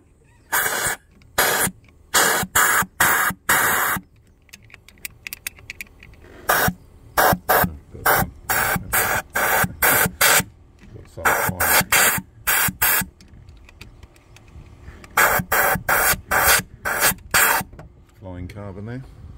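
Compressed air blasts debris and carbon out of cylinders 3 and 5 of a supercharged Audi Q7 3.0 TFSI engine in sharp, loud bursts of hissing spray, some single and some in rapid strings, with short pauses between them.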